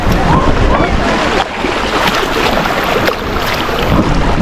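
Sea waves washing far up the shore at Talatoli beach, a loud, dense roar of surf mixed with heavy wind buffeting the microphone, swelling and easing slightly as the water surges in.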